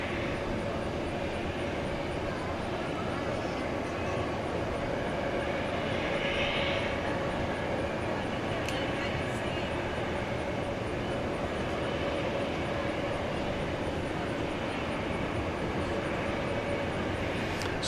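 An airliner roars down a 13,000-foot runway at DFW Airport at night, a loud, steady, broadband engine rumble with a high whine that holds from start to finish, heard from a distance with no talk.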